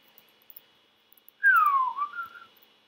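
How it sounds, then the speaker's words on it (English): A person whistles a single short note that swoops downward and then levels off, clear and close against a near-silent background after a few faint clicks. "Whistle a lot."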